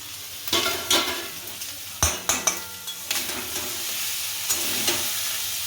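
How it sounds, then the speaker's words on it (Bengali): Soaked, drained dalia (broken wheat) is stirred in hot oil in a pan, making a soft sizzle under a series of sharp spoon scrapes and clinks that bunch together in the middle, then fade to steady frying. "এবার খুব ভালো করে আমাকে এটা নাড়তে হবে যাতে এই ডালিয়াটা তেলে ভাজা ভাজা হয়ে যায়"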